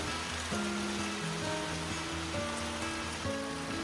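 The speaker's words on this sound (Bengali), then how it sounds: "বাইরে বৃষ্টি হচ্ছে আর আমি এই রুমে বসে বৃষ্টি এনজয় করছি" Rain falls steadily outside a house on a cloudy afternoon, a dense even patter heard from indoors, with a faint melodic tone drifting over it and no talking.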